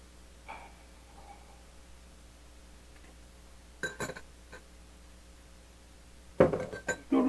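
Chopsticks clink against dishes during a meal of mackerel: a faint tap early, a cluster of sharp clinks near four seconds, then a louder rattling burst of contacts at the end, with quiet room background between.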